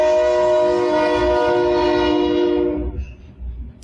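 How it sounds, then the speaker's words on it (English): Train passing by a house, sounding a long steady horn that holds loud for nearly three seconds and then cuts off, leaving low rumbling and faint clatter. "I think you probably hear the train going by my house."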